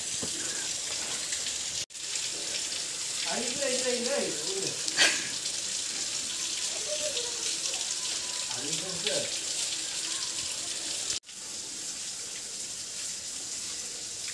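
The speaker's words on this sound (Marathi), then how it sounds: "महादेवाची तर नदी वाहते ना" River water flows past a Mahadev shrine in a steady, even hiss and rush, with faint voices talking partway through.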